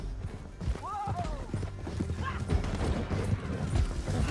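Horse hooves clip-clop at a gallop in Red Dead Redemption 2, a steady rhythmic patter beneath game sounds, with a short whinny and voices talking over it.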